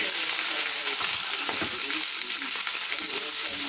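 Magret de canard, a duck breast, frying gently in a pan under foil, giving a steady, close, continuous sizzle with soft crackles throughout and no talking.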